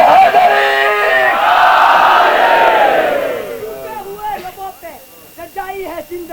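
Large crowd at a Shia azadari majlis gathering in Kanodar, Gujarat, India, roaring a loud unified shout in response to a Haidari slogan call, sustained for about three seconds before fading into a recited elegy voice.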